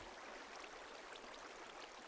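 Water flowing in Minecraft after being turned off, a steady, soft trickling wash with faint splashes that runs evenly throughout.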